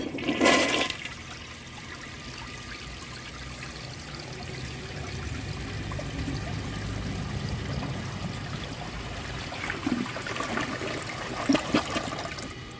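A 1998 Kohler Wellworth Ingenium toilet flushes with its siphon jet blocked: a sharp initial burst gives way to a long rushing swirl of water draining nearby, ending in gurgling refill trickles.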